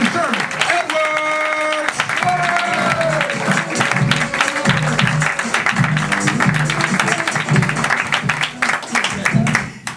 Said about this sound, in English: start clapping up right now, everybody